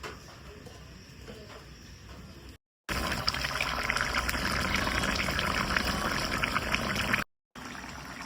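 Water gushes loudly into a pan of chicken kosha as it cooks, a close, continuous pour broken by two brief cuts to silence.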